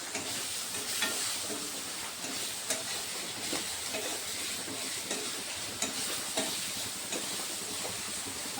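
Tomato, green chili and bay leaf fry in oil for khichuri, a steady moderate sizzle with occasional stirring clicks and taps across the whole stretch.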